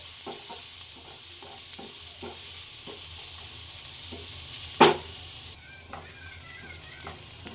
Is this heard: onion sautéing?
yes